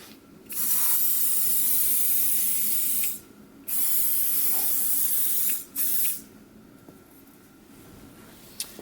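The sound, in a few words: spraying mold release lubricant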